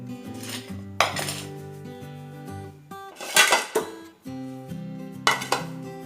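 Metal clanks and clinks as a cooled cooker-baked cake is turned out of a nonstick pan, three bursts of knocking and rattling separated by quieter ringing pauses, close and alone.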